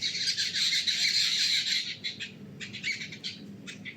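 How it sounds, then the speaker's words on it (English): Fighting birds let out loud, harsh squawks up close, a sustained burst giving way to choppier, broken calls, with no one talking. "I'm actually first time I'm seeing the birds are fighting."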